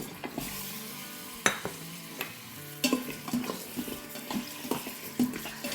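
Goat trotters frying in oil in an Instant Pot for nihari paya, a soft, steady sizzle with scattered clanks and scrapes of stirring against the metal pot, close by, no voices.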